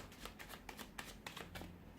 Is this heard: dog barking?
no